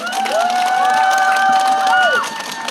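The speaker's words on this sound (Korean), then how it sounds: "다시 한번 큰 박수와 함성 보내줍시다" Crowd at an anti-poverty rally in Busan cheering and clapping together, loud and sustained, with rising shouts and whistles over a dense wash of applause that fades slightly at the close.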